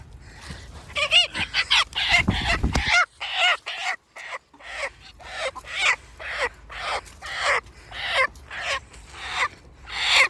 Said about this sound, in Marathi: सगळ्या कोंबड्या धरून झाल्यात आता.